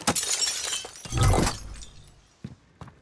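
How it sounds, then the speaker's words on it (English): Glass shatters in a video game, a sharp burst of crashing and tinkling shards that peaks and trails off, followed by a couple of brief, separate clinks. "Did you break that glass?"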